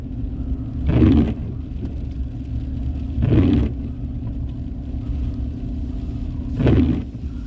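Wind buffets through the open windows of a moving car, a low steady rumble swelling into three slow, loud wobbling throbs spaced a couple of seconds apart.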